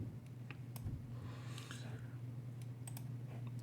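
Typing on a computer keyboard: a quiet, irregular run of light key clicks over a steady low hum, close by but faint.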